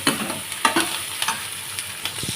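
Vegetables roasting with chili and spices in a pan, a steady sizzle broken by several scraping stirs of the spoon against the metal, close and fairly loud with no talking.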